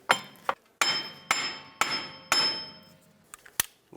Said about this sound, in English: Now with my hammer, I'm going to hammer on the wheel bearing.